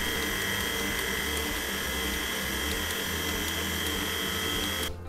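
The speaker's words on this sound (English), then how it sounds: "we're gonna mix this on low speed so the flour doesn't go everywhere" Electric hand mixer running steadily on low speed through banana cake batter, a continuous close motor whir with a faint rhythmic beating that stops abruptly at the very end.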